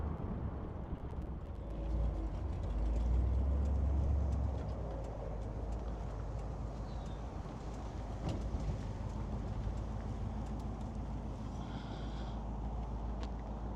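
A 1964 Mercury Park Lane convertible with a white top drives on the road, its engine a steady low rumble under broadband road and wind noise, with a slight swell early on and no talking.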